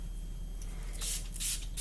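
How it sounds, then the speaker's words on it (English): A short hiss from a spray bottle, one quick spritz in a quiet room, soft and close, with no voices. "Just gonna have a quick spray"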